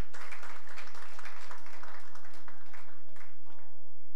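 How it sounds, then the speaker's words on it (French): A crowd applauds Madame Manga at a Toyota Prado VXR handover ceremony in Bonapriso, producing a steady wash of clapping over a low hum for the whole few seconds. "Applaudissements pour Madame Manga."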